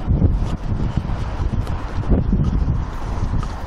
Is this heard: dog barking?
no